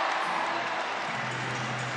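A basketball crowd in an NZNBL 2022 game between the Canterbury Rams and Franklin Bulls cheers and claps after a three-pointer, a steady wash of noise from the stands that holds throughout the moment.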